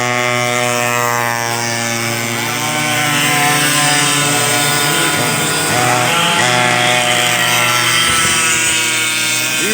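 A vintage dual-engine racing kart revs at a historic karting event, a loud close rasping two-stroke roar with shifting harmonic pitch that climbs and dips steadily throughout.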